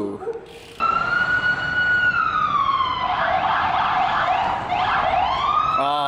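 A loud siren wails close by, its tone sweeping up and down steadily for several seconds.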